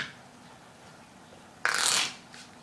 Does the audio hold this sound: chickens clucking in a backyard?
no